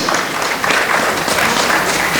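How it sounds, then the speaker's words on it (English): An audience at a conference panel session applauding the speakers on stage, a full, steady burst of many hands clapping throughout. "Ladies and gentlemen, a big round of applause for our panelists here on stage."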